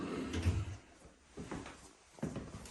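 A drawer in a house for sale sliding open and shut, a faint wooden rumble followed by two soft knocks spaced about a second apart, quiet and close.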